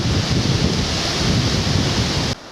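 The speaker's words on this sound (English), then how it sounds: "As you can hear, possibly, wind is pretty strong." Strong wind roars across a woodland walking trail, a loud, constant buffeting rush close to the microphone that drops away abruptly at the end.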